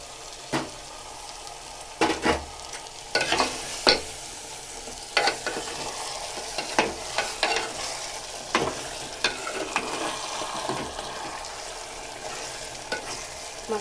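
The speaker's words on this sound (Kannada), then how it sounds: "ಮಸಾಲೆನ ಆದಷ್ಟು ಎಣ್ಣೆಲಿ ಫ್ರೈ ಮಾಡ್ಕೊಬೇಕು" Ground masala paste frying in oil for a poori sagu, a continuous close sizzle with repeated scraping stirs of a spoon against the pan, irregular bursts throughout.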